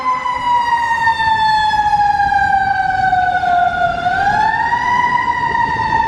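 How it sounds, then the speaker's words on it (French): On a San Francisco street, an ambulance siren wails loud and close, one long tone sliding slowly down and then rising again, with traffic rumble underneath and no talk over it. "Et là juste là il y a une ambulance."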